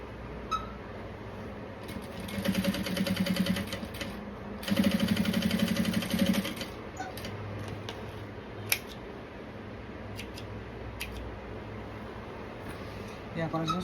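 A sewing machine stitches the lining of a shoulder bag in two bursts of steady, rapid mechanical whirring, each a couple of seconds long, with quieter handling sounds between and a person speaking nearby.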